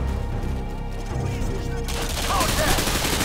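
Dense automatic gunfire rattles in a close-quarters firefight in Modern Warfare 2, loud and continuous, with overlapping bursts and a heavier swell near the end.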